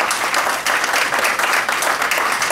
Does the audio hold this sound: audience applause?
yes